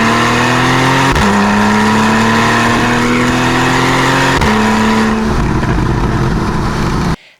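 A Porsche 911 of the 991.1 generation with a naturally aspirated flat-six revs hard and close, pitch climbing steadily through two quick gear changes toward redline before cutting off abruptly, with no talking over it.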